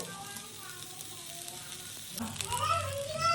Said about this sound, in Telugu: ఆయిల్ వేసుకున్న తర్వాత హై ఫ్లేమ్ నుండి సిమ్లో పెట్టేసి స్లోగా పెసరట్టుని కాలనివ్వాలి